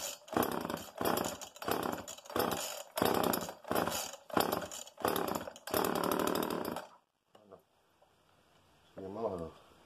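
An old small Homelite XL chainsaw revs in repeated loud bursts, then cuts off, leaving quiet with a short voice speaking Slovak near the end.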